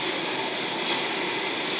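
A Millennium train runs in a steady, loud, broadband rumble with a hissing roar and faint wheel noise, continuous and close, with no talking.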